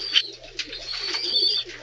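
Homing pigeons returning to their loft in Noyelles, in France's northern mining basin: soft low cooing and brief chirps close by, with light fluttering, fairly faint and continuous.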